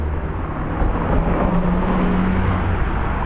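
A car moves along a street among old buildings in Salisbury, its engine hum and road rumble rising slightly as it goes by, against steady town background noise.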